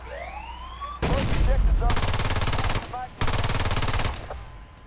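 Bursts of automatic rifle fire from the online shooter Battlefield Play4Free ring out in two long sustained volleys with a short gap between them, loud and close, after a few rising synthetic tones at the start.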